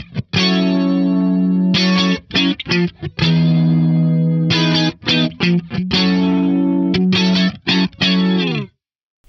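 Electric guitar run through an Axe-Fx III electric mystery flanger placed before the amp, playing loud sustained chords in bursts with a sweeping, swirling modulation and distorted tone, then a clean stop at the end.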